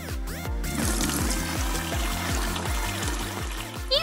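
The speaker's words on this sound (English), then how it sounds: "Next, we'll fill the tank with clean water!" Clean water pours into a tank in a steady stream, with rhythmic, repeating glugs and gurgles close by and no talking over them.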